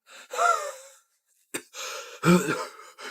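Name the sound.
wheezing, struggling to breathe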